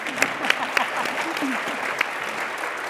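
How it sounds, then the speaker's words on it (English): An audience at a career panel gives steady applause at moderate volume, with a few sharper individual claps standing out over the wash of clapping. "I'd like to give you a round of applause."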